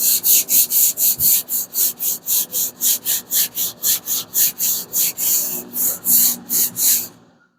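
A sanding block worked by hand across the body of a Hemi Plymouth Duster, making about twenty even, rhythmic rasping strokes close by before stopping abruptly.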